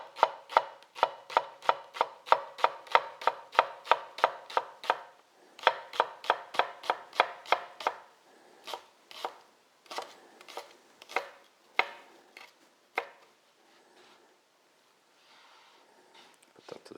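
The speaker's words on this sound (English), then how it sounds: "So we're just going to chop the leek up like this." A knife chops a leek on a board in quick, regular strokes, close and crisp, then slows into sparser, uneven cuts and a brief pause before a few final chops; no talking.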